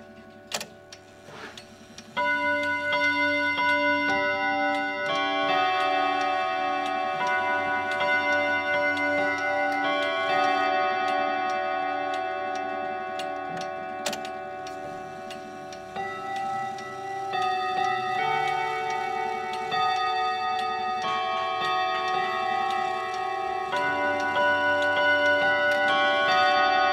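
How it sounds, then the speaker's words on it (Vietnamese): An FFR clock imported from France plays a French folk tune as a bright, chiming mechanical melody of clear repeated notes, steady and alone, with faint ticking underneath. "Vừa rồi là đồng hồ chơi bản nhạc Engineer, một trong những cái bản dân ca Pháp rất là nổi tiếng."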